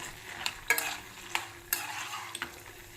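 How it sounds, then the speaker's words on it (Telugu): Dried red chillies frying in oil in a pan over medium heat for pulihora, a soft sizzle broken by several sharp clinks and scrapes of a stirring spoon against the pan. "మీడియంలో పెట్టుకొని వేపుకోవాలండి, మానవకూడదు."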